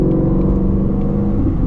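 A Shelby GT350 Mustang's engine drones loud and close beneath a bridge, a deep steady rumble with a slight whir holding at an even pitch for a couple of seconds, no voices.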